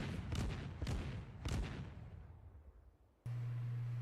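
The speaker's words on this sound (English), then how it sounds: "Now they can see me because my secondaries were just firing." Secondary guns on the destroyer Gremyashchy in World of Warships fire three heavy booming shots in quick succession, then the rumble fades and a steady low tone takes over.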